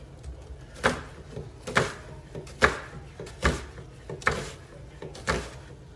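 A knife slices through food on a cutting board for a seafood boil, making six evenly spaced, sharp chopping knocks about every 0.9 seconds, close and clear over a quiet room.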